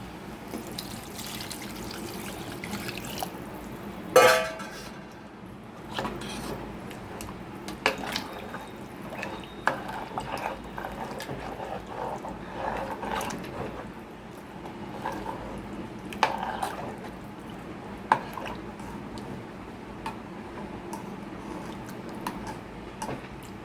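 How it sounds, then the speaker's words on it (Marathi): Water is poured into a spicy vegetable curry in a pot, splashing and gurgling close by, then soft squishy stirring and occasional clinks of a utensil over a long stretch. "आता ह्यात आपण पाणी घालूया"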